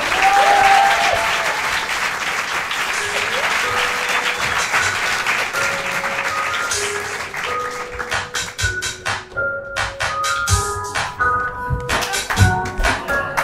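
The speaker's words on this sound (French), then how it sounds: "Je vous demande d'applaudir en compétition avec nous Monsieur Jordan Mons." Studio audience applauding a comedian introduced on a televised stand-up competition, a dense sustained wash of clapping that thins toward the end into scattered individual claps, with a short musical sting over it.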